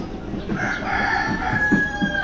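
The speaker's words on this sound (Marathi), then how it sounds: "इथं तर कोंबड्या दिसतात" Chickens at a market in Nagaland crow and cluck close by, a rooster's call rising over light background market noise.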